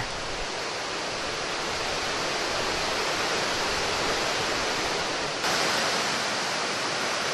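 Steady, loud roar of a milky, limestone-rich waterfall in a deep Samcheok gorge, a dense continuous rush filling the whole clip with a slight surge near the end.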